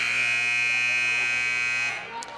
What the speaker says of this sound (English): You'll hear the buzzer sound.